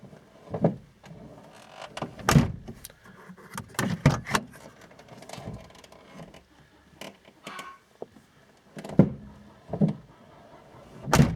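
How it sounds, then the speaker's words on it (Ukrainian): Driver's door of a Peugeot Partner 2.0 HDI with a worn door check, giving a series of sharp clicks, creaks and clunks as it is opened and moved, fairly close with quiet gaps between. "Причина ограничитель відкривання дверей."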